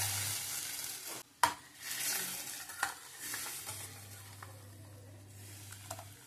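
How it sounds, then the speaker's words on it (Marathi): Mustard-seed and asafoetida tadka sizzling in hot oil for Gujarati kadhi, a steady close frying hiss with stirring clatter, a couple of sharp knocks and a low hum underneath. "तडका बसला पाहिजे।"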